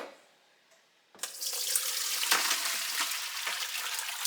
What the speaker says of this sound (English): So now I'm going to drain this water and vinegar off of my pickles.